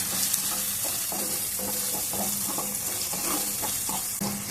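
Ginger garlic paste with turmeric sizzles steadily in a pan, with repeated scraping stirs cutting through a continuous loud frying hiss, heard up close with no talk.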